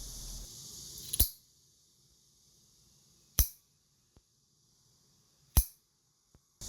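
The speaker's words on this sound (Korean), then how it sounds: "준비한 닭발에 발톱이 달려 있다면 가위를 사용해 썰어주시고요." Three loud, crisp scissor snips cutting the claws off chicken feet, spaced a couple of seconds apart, close up, with a couple of faint clicks between them and no talking.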